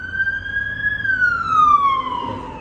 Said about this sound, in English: Sorry about the police car going past.